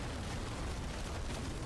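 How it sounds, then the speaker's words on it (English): A Diablo 4 explosion during a Hellfire Tyrants Warlock run on Torment 12: a dense, steady rumbling boom that fills the whole short span at high level, with no voices over it. "I didn't have to stand also in the explosion"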